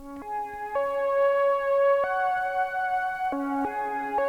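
Third flute-like synth sample playing a slow melody of bright, reedy sustained notes with crisp attacks, moving up and then dropping back down, heard alone and up close.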